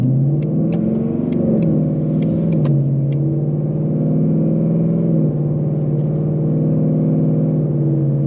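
A Ford Mustang with a 10-speed transmission produces a loud, steady engine drone while driving, with a deep rumble that shifts pitch slightly as revs change, heard from inside the car without talking.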